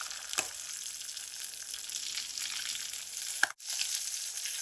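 Blackened salmon fries in a pan with a steady, close sizzling hiss that runs throughout, briefly cut by a short dip and a sharp clack near the end before the sizzle resumes.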